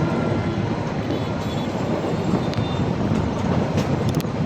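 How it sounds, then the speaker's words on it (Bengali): Narayanganj Commuter train pulling out of Kamalapur railway station, a steady loud broadband rumble of the moving train heard from aboard, constant through the short span with no talk. "এই যে আমাদের নারায়ণগঞ্জ কমিউটার ছেড়ে দিচ্ছে"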